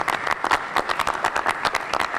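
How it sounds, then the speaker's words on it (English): Audience applause at a panel discussion, a steady wash of many hands clapping at moderate volume with dense, even rhythm throughout, no voices over it. "Let's give Dr. Shoults a big round of applause."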